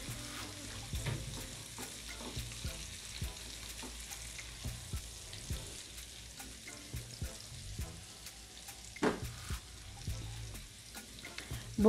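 Crushed garlic sautéing in oil for chicken Manchurian gives a soft, steady sizzle, broken by occasional light stirring scrapes and clicks throughout.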